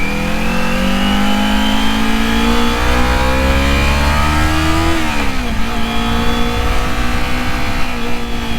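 A Kawasaki Z250 motorcycle engine revs hard at high rpm while riding in third or fourth gear, a loud, close, continuous whine with the pitch climbing, dipping at a shift midway, then climbing again, with no talk.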